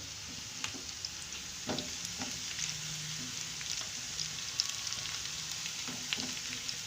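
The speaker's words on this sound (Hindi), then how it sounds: "अब ये प्याज जो है ब्राउन होनी शुरू हो गई है।" Onions fry and brown in a pan for a dalia dish, a soft continuous sizzle and crackle with a few light stirring taps, steady and fairly quiet, no voices.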